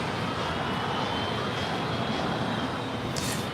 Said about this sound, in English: JetBlue Airways Flight 1374 heading to Newark. It's an A321 now rolling down 25 right.